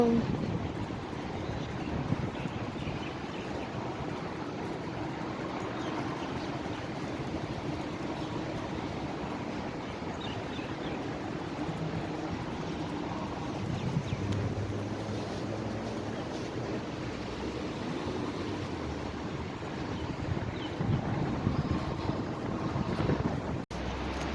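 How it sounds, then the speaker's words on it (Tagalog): Steady strong wind rushes and buffets the microphone continuously, with low rumbling gusts throughout and no clear voices. "ang lakas na naman ang hangin"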